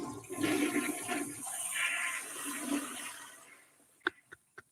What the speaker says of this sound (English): Go ahead, double flush for me, JP.